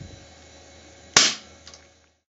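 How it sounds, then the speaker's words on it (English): A single sharp gunshot-like crack from an airsoft or pellet gun fired with an old board, bursting loud and alone over a quiet background, followed by a faint mechanical click a half second later. "The first shot is made with the old board, then switching to the new one."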